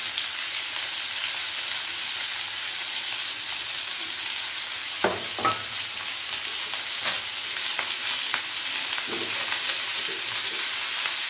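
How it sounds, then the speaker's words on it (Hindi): Onions for a spicy onion sabzi fry in hot oil in a pan, a dense, steady sizzle close by, broken by several sharp clinks and scrapes as a spoon stirs them; no voices. "इसको मैं अभी इसी तरह चम्मच चलाते हुए फ्राई करती रहूँगी"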